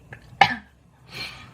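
A woman coughs nearby: a faint throat catch, then one sharp cough, then a softer breathy cough after a pause.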